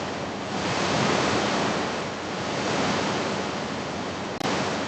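Ocean waves surging and rushing steadily as a warship decorated with a crescent moon and star cuts through them, a loud continuous wash of surf and spray with one brief break near the end.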